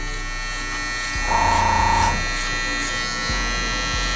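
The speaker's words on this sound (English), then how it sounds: "Get your trimmer." Electric hair trimmer during a low mid taper slickback haircut, a close, steady buzzing hum that rises into a brighter, louder whine for under a second as it cuts, then settles back, alone without talk.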